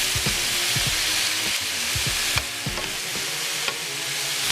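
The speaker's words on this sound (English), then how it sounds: "we're going to take our wooden spoon and we're going to break up the fish." A wooden spoon breaks up saltfish in a frying pan for ackee and saltfish, a steady hiss of frying with repeated soft knocks and scrapes of the spoon against the pan.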